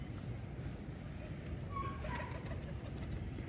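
Soft pigeon cooing amid a low background hum of distant engines, quiet and continuous.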